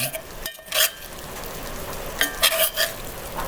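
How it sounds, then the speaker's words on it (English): Spicy beef and broccoli noodles being stirred in a pan, with a soft steady sizzle and a few scraping, clinking bursts of the utensil against the pan, close and fairly loud, no talking. "Now, finish stirring this stuff around."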